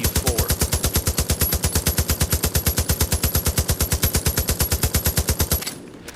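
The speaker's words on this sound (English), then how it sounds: "here we have the M60, which this looks like an M60 E4." Sustained automatic fire from an M60 E4 machine gun in the video game Division of Arms, a fast, steady stream of loud, close shots for over five seconds, ending abruptly with a brief tail.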